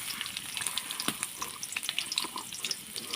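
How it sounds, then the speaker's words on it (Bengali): Chopped onion dropped into hot oil in a wok sizzles with bright crackling pops, a busy close hiss throughout with no talk. "আমি চুলায় কড়াই দিয়ে তেল দিয়ে দিয়েছি। এখন আমি এখানে পেঁয়াজ কুচি দিলাম"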